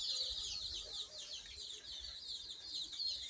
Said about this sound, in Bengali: এই যে মুরগি বাচ্চা নিয়ে কিচির মিচির করতেছে